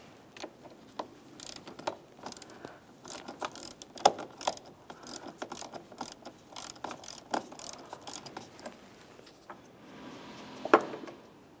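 A 10mm ratchet clicks in quick, uneven bursts while loosening the negative battery terminal on a 2004-2015 Nissan Titan, close and crisp, with a louder burst of clicking near the end.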